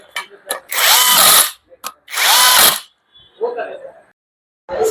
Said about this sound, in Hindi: ये 12 बोल्ट्स जो है टोटल क्लच कवर में लगा के इसको टाइट कर लेते हैं।